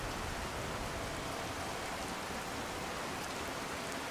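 Steady rain falls in Skyrim, an even, dense hiss of drops on surfaces that carries on unbroken and fairly quiet.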